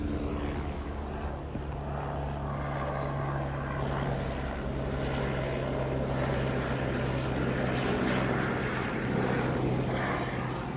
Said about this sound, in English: love waking up to the helicopters flying by